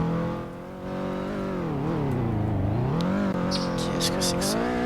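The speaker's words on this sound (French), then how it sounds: "Le véhicule est assez puissant." A powerful car engine in the Balkan Border RP game, a steady rising and falling drone that climbs in pitch as it accelerates, heard close and continuous with a few brief higher whines near the end.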